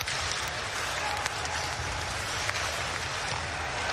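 Dense, steady roar of an ice hockey arena crowd cheering and clapping through a fast-moving first period between Adler Mannheim and Lausanne HC, loud and continuous with a few sharper bursts.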